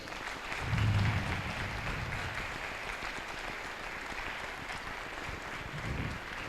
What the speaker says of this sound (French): qu'on peut vraiment les encourager par nos applaudissements